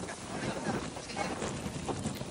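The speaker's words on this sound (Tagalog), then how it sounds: "Sobrang lakas ng hangin." Strong wind buffets the microphone at a steep mountain viewpoint deck in Dingalan, Aurora, giving a steady loud roaring rush throughout the short stretch.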